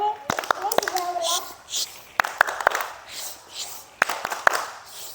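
Young schoolchildren in a classroom perform the 'tepuk diam' rhythmic clapping routine, sharp hand claps in short patterned bursts mixed with a teacher's and kids' chanting voices.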